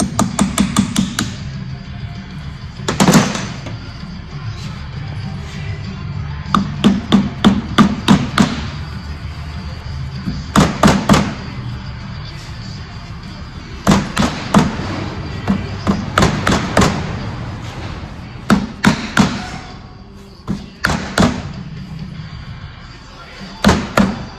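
Repeated heavy thuds of hammering while installing a lowering kit on a 2023 Beta 430RR-S motorcycle, struck in quick bursts of several blows separated by pauses, loud and close.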